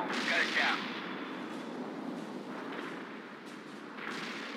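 Weapons fire and distant explosions in the real-time strategy game World in Conflict, a loud burst at the start fading into a steady rumbling battle bed, with faint radio voices underneath.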